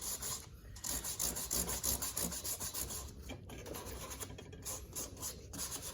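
A bevel tool scrapes the inside of a piece of wooden trim in a steady series of close rasping strokes, quiet but distinct and with no talking.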